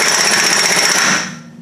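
A pneumatic impact gun rattles in one loud continuous burst, fastening the hub caps and hub nut on a Ghana 110 during a repair, then cuts off and winds down at the end.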